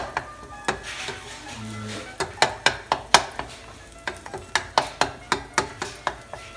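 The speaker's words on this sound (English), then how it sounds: "Now we will wait for that to get sizzling brown on one side." Bread dough fries in a pan with a steady sizzle, broken by a series of sharp rhythmic clicks and taps of a fork or utensil against the pan, loud and close.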